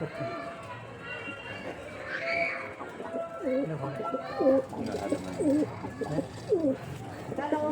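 Soft, repeated pigeon coos in a steady series, mixed with other bird calls and voices talking nearby.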